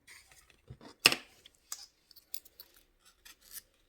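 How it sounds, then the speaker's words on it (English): Wire cutters snip through thin jewelry weaving wire while making wire-wrap earrings, with one sharp close clip followed by small metallic ticks and faint handling noises. "I'm going to cut the weaving wire, leaving a little bit still attached there."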